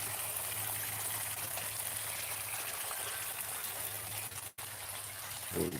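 Forest stream water flowing and trickling in a steady, continuous wash with a low hum beneath, broken by a brief dropout near the end.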